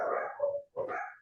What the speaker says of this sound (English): There's a dog party outside.